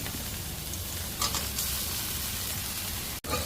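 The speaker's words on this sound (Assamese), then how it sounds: "তেলতে পিঁয়াজখিনি বহাই দিলোঁ।" Onions sizzle steadily in hot oil in a pan where fish and mung dal are being cooked, a continuous close frying hiss with a brief clatter midway and a momentary dropout near the end.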